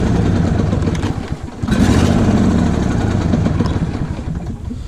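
A lawn tractor engine sputters and catches, then runs roughly and unevenly at close range with a faint choke-starved wavering.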